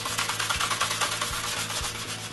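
Hand sanding a wooden cremation urn, a continuous close scratchy rubbing with a steady back-and-forth rhythm, alone with no talk.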